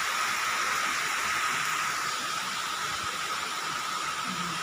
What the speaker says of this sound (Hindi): बहुत ही तेज़ बारिश हो रही है दोस्तों